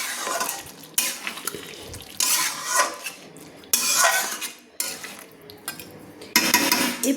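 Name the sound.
stirring coriander chicken curry in a kadai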